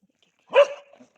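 A single short, sharp dog bark, close and clear in an otherwise quiet moment.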